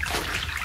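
Water splashing and sloshing in an audio play as a little waterman surfaces, a brief loud rush of moving water heard close up without any talk.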